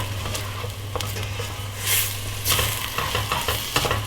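80-20 hamburger beef frying in a pan while being stirred, a steady sizzle with scraping stirs and occasional louder crackles, close up and without talk.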